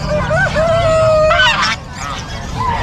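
Geese honk and cackle nearby in a noisy, overlapping chorus on a poultry farm, with other fowl calls, including turkeys, mixed in over a rumbling background.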